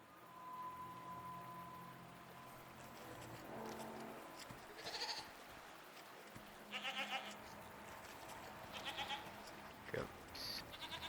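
Goats bleat several times in short wavering bursts around an animal enclosure, fairly close and spaced irregularly over a quiet, low background hum.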